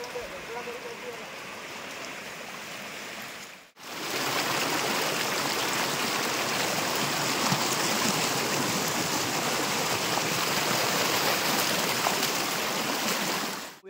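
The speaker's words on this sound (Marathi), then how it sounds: "नदीला मित्रांनो पूर आलेला आहे" A river in flood in the Konkan region rushes past as a steady, loud broadband roar of flowing water, continuous after a brief cut near the start.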